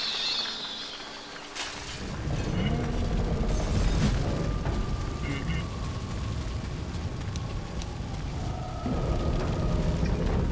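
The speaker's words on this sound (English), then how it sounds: "Explosion." An explosion in a zombie video game, a broad rumbling boom that opens the clip and then settles into a sustained roar of fire and debris.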